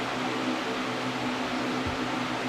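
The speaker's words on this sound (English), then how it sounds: "Sorry about the fan in the background." A fan runs steadily and close by in a warm room, giving a constant broadband whoosh with a low hum, alone with no talking.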